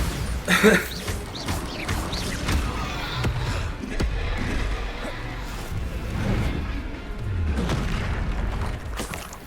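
A Bombarda spell in Hogwarts Legacy bursts in a loud booming blast early on, followed by a rumbling clash of further combat impacts and whooshes.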